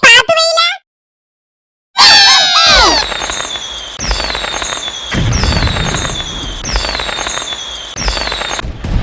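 Diwali firecrackers go off loudly at close range: a burst of whistling shrieks after a brief pause, then repeated sharp crackling bangs in quick succession, with voices audible over the noise.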